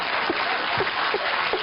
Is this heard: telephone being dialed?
no